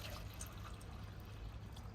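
Water poured into a tablespoon of buttermilk, a steady close trickle and splash of liquid filling a container, continuous with faint drips and no talking.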